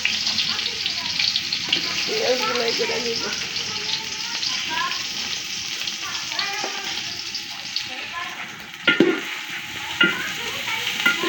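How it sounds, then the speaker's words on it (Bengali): Chopped onions frying in hot oil for a duck curry, a steady close sizzle with occasional stirring scrapes and clanks, while people talk over it. "তেল ঢেলে দিছে, এখন পেঁয়াজ ঢেলে দিতেছে।"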